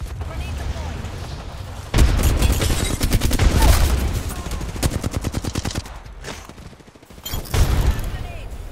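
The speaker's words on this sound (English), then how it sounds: "Grenade! Grenade deployed!" Video game combat crackles with dense rapid gunfire bursts and booming blasts, loud and close, rattling in fast repeated shots with a brief lull before another heavy burst.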